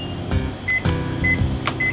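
A microwave oven runs at 500 watts while heating French toast, giving a steady hum with recurring clicks and short high beeps. No one speaks over it.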